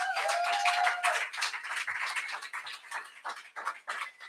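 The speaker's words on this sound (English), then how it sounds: "A round of applause for the Harriet Tubman Center." Scattered applause from a small lecture audience, fairly quiet, with a brief whistle early on and claps growing sparser as it fades.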